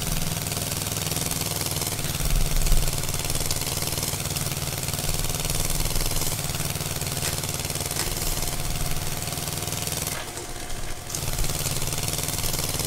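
An Eicher 241 tractor engine runs steadily in Farming Simulator 22, a continuous, loud, rough mechanical drone with a brief dip near the end and no voices.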